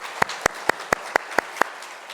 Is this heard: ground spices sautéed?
no